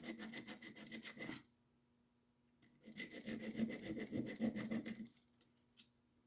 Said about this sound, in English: So I'm going to sand down, scratch it up where the JB Weld's going to go.